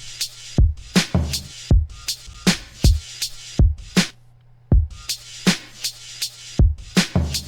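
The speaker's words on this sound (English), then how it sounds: "The drums by themselves sound like this." Drum track of a game-music beat played alone: punchy kicks and crisp snare or clap hits in a driving, syncopated pattern with a low tonal hum underneath, loud and close, no voices.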